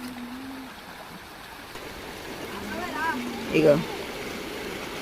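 A village stream in a rural spot among hills and trees flows with a steady, broad rush of water throughout, while people talk briefly nearby.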